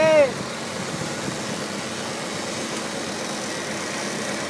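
Tractor engine idling steadily at a rally-car rescue in Pernambuco as it tows the stuck car, a continuous low rumble throughout, with a short tonal burst at the start.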